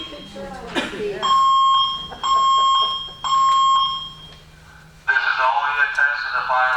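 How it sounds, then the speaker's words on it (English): A building fire alarm system under test during a board meeting sounds three long, steady electronic tones with short gaps between them, then a voice starts speaking. "This is only a test of the fire alarm system."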